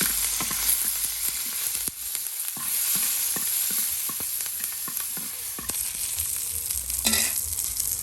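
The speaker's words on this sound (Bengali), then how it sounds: "এই যে আপনার এখন কাঁচামরিচগুলি ভাজার জন্য একটু দেওয়া" Green chillies crackle and sizzle steadily in mustard oil, a dense close frying hiss broken by sharp pops and occasional stirring clatter, with no talk.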